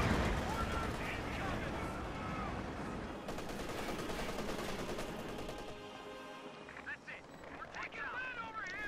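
Dense battle soundscape from the Company of Heroes 2 strategy game: sustained rapid machine gun bursts and heavy explosions, loud and continuous, with a voice talking over it.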